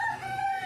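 A gamecock rooster crows close by, a loud drawn-out call with a strained, wavering tone.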